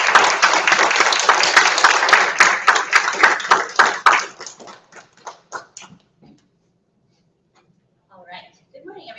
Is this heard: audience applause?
yes